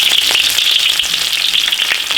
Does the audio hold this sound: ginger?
yes